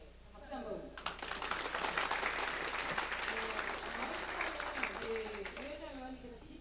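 An audience at a Justice Party district committee lecture breaks into applause for several seconds. The clapping is dense and steady, and someone speaks just before and after it.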